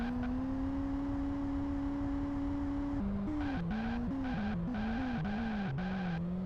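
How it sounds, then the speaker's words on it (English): Racing video game car engine, a steady synthetic drone that holds one pitch, then shifts repeatedly up and down as gears change and the throttle varies, with no talk over it. "Love these car sounds."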